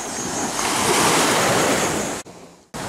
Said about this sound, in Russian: И здесь очень большие волны.